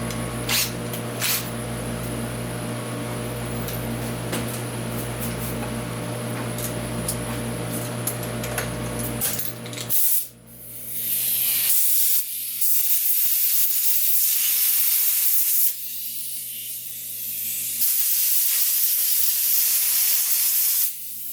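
Bursts of compressed air blowing in a machine shop while scope rings for a Browning A-Bolt 3 rifle are machined, a loud broad hiss that cuts in after a steady machine hum drops away, then comes in long blasts with short pauses.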